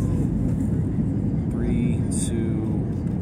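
An airplane comes in to land at Punta Cana International Airport in the Dominican Republic, a loud steady cabin engine roar filling the low end throughout, with a brief rising whine midway.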